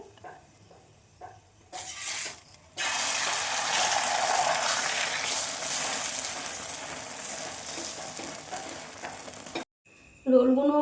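A paratha coated with egg fries in a pan for a restaurant-style egg chicken roll, giving a loud, steady sizzle that runs for several seconds after a short clatter, then cuts off abruptly.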